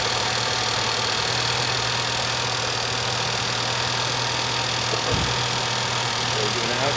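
A 2015 Volkswagen Passat engine idles steadily after an intake valve decarbonization, a low, even hum with a constant drone and no changes in pitch throughout.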